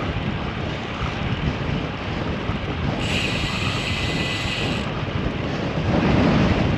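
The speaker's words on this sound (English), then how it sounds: "there's nothing between me and the wind, so I'm getting some pretty good gusts in" Wind buffeting a microphone while cycling on an open road, a steady loud rumbling roar with stronger gusts swelling through, no voices.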